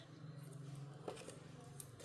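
Scissors make a few faint, quick snips as they trim a little off the covering material of a handmade magnetic tarot box, set against quiet room tone.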